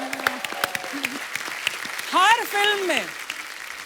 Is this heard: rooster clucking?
no